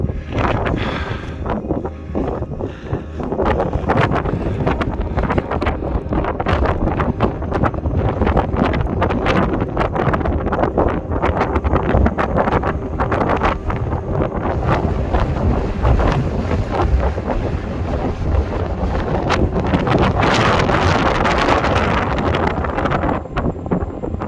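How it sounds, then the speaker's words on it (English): Strong, cold wind buffets the microphone on the exposed summit of Slioch, a Scottish Munro, roaring steadily for the whole stretch with gusts swelling louder near the end. "That wind is freezing!"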